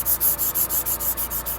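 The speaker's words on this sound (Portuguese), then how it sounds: "esse negócio de fazer acabamento com lixa" Sandpaper is rubbed by hand across a surface being finished, making a rhythmic series of about ten even back-and-forth scraping strokes, close and steady with no speech.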